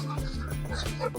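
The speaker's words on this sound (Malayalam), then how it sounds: "ഏതോ ഒരു നായ കുരയ്ക്കുന്ന സൗണ്ട് കേട്ട്" A dog barks somewhere nearby in a short burst of a few quick, moderately quiet barks heard on their own.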